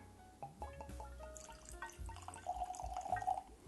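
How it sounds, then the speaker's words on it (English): Barrel-aged spirit trickles into a Glencairn glass in a thin, quiet pour with a few soft drips, close and alone without talk. "I've got a little Glencairn here, and we'll just get a quick pour of this going"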